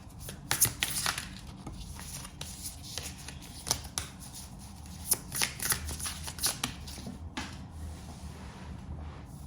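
Tarot cards are shuffled and drawn in quick, papery bursts of riffling and sliding, some soft and some sharper snaps. The sound is close but quiet, with short pauses between handlings.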